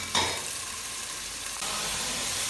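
Ginger, chillies and tomato frying in oil for chicken pulao, a steady close sizzle with a brief scrape of stirring near the start and the hiss rising slightly partway through.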